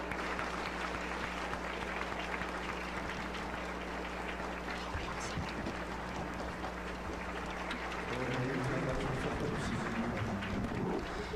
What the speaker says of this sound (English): let us all offer our respects to the origin of true life, true love, and true lineage with a big round of applause